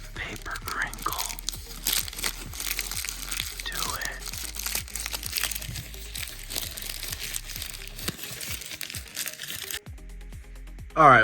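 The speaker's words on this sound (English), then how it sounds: "Listen to that paper crinkle." Paper packaging from a GI Joe Classified Cobra S.N.A.K.E. battle suit action figure crinkles and rustles close up in repeated bursts while being unboxed, with a brief spoken word near the end.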